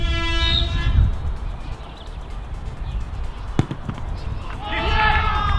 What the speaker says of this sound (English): Cue unnecessary air horn.